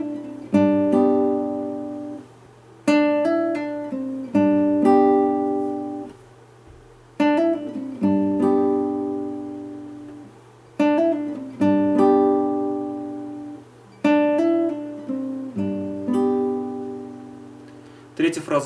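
An acoustic guitar picks the second phrase of a melody, pairing the third and first strings. Clear single notes and short groups are repeated in several evenly spaced passes, with no speech.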